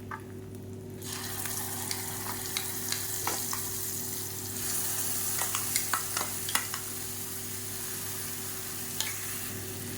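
Fenugreek, curry leaves, asafoetida and a ground paste frying in hot oil, a steady dense sizzle with scattered crackles and stirring clicks throughout.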